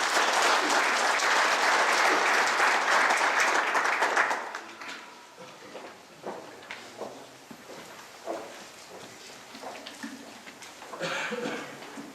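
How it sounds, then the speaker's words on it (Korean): An audience bursts into loud, dense applause to welcome a speaker at an indoor talk, lasting about four seconds before fading into scattered claps, small shuffles and room noise. "큰 박수로 환영해 주시기 바랍니다"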